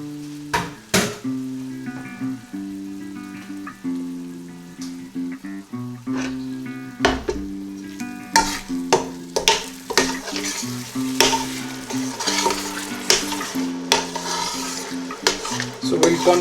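Yogurt frying and being stirred in a pan for kofta curry, with repeated scraping strokes of a spoon against the pan over a soft continuous sizzle, close and clear.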